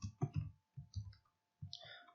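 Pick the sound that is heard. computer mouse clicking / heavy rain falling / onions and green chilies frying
computer mouse clicking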